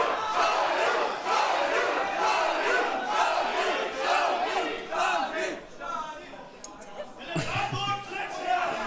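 Spectators at a fight event cheer and shout in a dense, loud crowd roar that holds steady throughout and swells again near the end.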